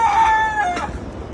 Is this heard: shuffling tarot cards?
no